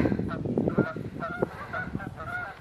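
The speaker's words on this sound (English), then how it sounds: "we definitely have more geese coming through." Several geese honk in quick, overlapping calls, moderately close, with a busy outdoor background.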